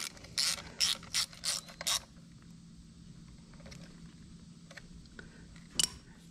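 Socket ratchet tightening a water pump bolt on a Honda Africa Twin motorcycle: five quick, crisp clicking bursts close up in a row, then quiet with a few faint ticks and one last click.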